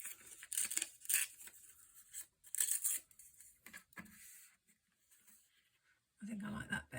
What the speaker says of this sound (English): maybe I'll tear that down a little bit more